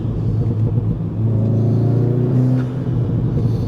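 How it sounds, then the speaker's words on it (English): A MK 7.5 VW Golf R with a burble tune and muffler delete rumbles deeply with low exhaust drone, then lifts off throttle into a brief crackling burble, heard close and fairly loud. "I do have the Burbles tune from EQT, so you can kind of hear that after I let off."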